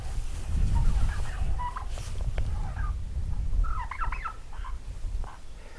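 Turkey gobbling from a bird about to be processed, heard as several short warbling bursts over a steady low rumble of background noise, moderately loud and with no talk.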